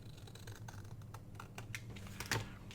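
Scissors trim 6x6 paper for an envelope folio journal, making soft, close snips and small paper rustles in an irregular rhythm, quiet against a low background.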